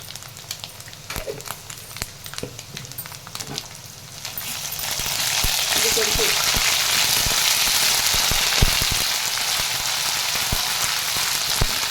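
Ginger and garlic fry in hot oil for a chicken pickle, giving a steady broadband sizzle that swells louder partway through and holds, with faint clinks near the start.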